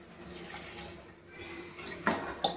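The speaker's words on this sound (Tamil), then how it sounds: "அந்த தண்ணியை தான் இப்போ ஊற்ற போகிறேன்." Rice-washing water pouring softly into a cooker in a quiet kitchen, with a couple of sharp metallic clinks of a pot near the end.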